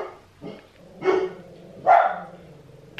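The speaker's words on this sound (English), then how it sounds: "Can you hear Beatrice right now? And Arthur barking." Two dogs bark indoors at home, with three short yapping bursts spaced about a second apart, the last the loudest, against a quiet background.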